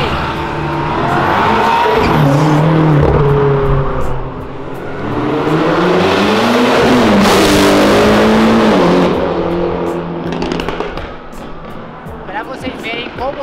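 A drift car growls along a city avenue, its engine loud and close, rising and falling over several revs with a brief tyre chirp, while people talk over it.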